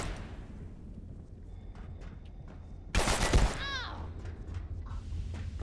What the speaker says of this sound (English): What is shooting?